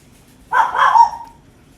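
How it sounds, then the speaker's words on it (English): A single Chihuahua lets out one short, fairly loud bark or yip, about a second long, with a quiet background before and after. "JoJo, that's one of my Chihuahuas."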